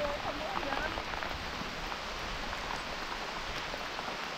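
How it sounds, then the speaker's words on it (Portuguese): Rain falls steadily during a road bike ride on the Estrada Real, a soft continuous hiss with faint patters, quiet and uninterrupted throughout. "Vamos seguir na chuva agora."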